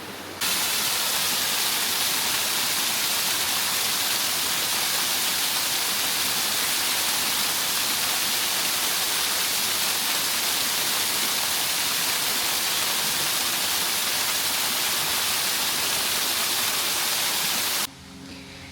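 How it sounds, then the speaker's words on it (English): A small waterfall at Rainbow Springs State Park rushes in a loud, steady broadband roar close by, unbroken for most of the stretch before dropping away abruptly at the end. "And it goes down this way to that little waterfall."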